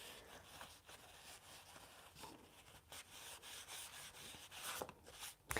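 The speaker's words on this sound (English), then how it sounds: "I might like this more by rubbing it out" An artist rubbing out part of a drawing makes a soft, continuous close-up scrubbing sound in uneven strokes, quiet, with no speech.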